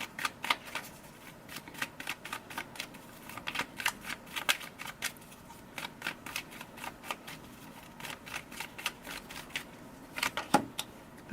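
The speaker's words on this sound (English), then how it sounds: "So let's pull cards for the present position." Tarot cards are shuffled by hand in a steady, soft riffling patter of rapid close flicks that continues throughout, quiet and with no one speaking.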